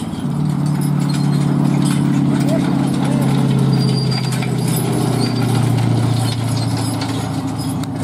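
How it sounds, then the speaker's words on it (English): A horse hauling a horse-drawn road grader on a dusty surface, hooves clip-clopping steadily beneath a loud continuous low rumble and scraping, with voices talking over it. "he's gonna bring this horse-drawn road grader in there and need to come out and give it a practice run"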